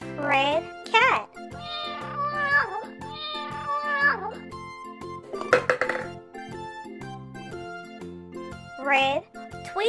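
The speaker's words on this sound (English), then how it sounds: "Red cat." A toy cat gives repeated electronic meows over a bouncy children's music backing with tinkling tones, the mews recurring every second or two at moderate loudness.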